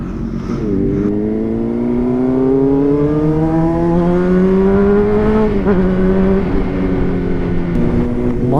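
A Honda CBR 600RR sport motorcycle with a reported issue, ridden on the road: a loud, continuous engine note climbing steadily in pitch through the gears, with a brief dip and recovery later, under steady wind noise and no talk.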